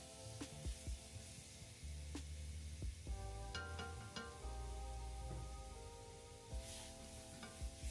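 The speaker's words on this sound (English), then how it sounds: "I'm taking it off the pan and then going in with my lobster tails" Lobster tails sizzle and fry in a pan, a steady frying hiss with scattered stirring clinks and scrapes throughout, at moderate volume with no talking.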